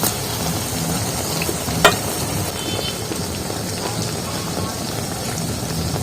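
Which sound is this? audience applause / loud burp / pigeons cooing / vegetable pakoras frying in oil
vegetable pakoras frying in oil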